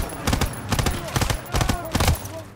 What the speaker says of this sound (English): Okay, Thompson has a lot of recoil.